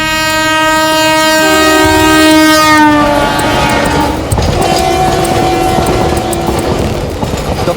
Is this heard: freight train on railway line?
yes